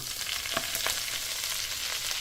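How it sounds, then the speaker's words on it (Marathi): Garlic and fenugreek leaves fry over a low flame in a pan, making a steady soft sizzle with a few light stirring clicks, no talking. "लसूण परतला आहे ह्यात मेथी घालूया"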